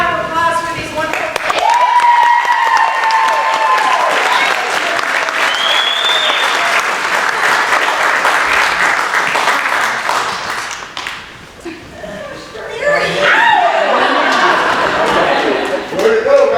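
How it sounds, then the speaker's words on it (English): An audience gives a long, loud round of applause at a high school event, with a voice and cheers rising over the clapping, which fades briefly near the end before swelling again. "one more round of applause for these wonderful."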